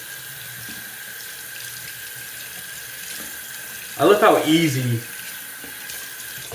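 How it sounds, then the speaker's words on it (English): A wet shaving brush rinsed under a running tap, water streaming steadily into a sink throughout, with a brief stretch of talk over the flow near the end. "I just run it under water for half a second"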